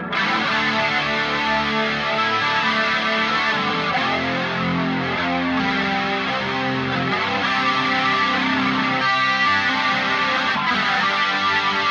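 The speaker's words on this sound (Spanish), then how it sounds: "Entonces voy a mantener el mismo chorus o el mismo triestéreo chorus," Electric guitar through an Eventide H90 pedal set to tri-stereo chorus without detuners, a full, continuous processed tone with sustained chords ringing loudly throughout, no voices.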